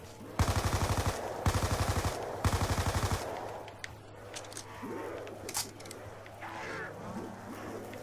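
Rapid automatic gunfire from Black Ops 2 Zombies on the Farm map, three loud bursts in quick succession, then quieter game sounds afterward.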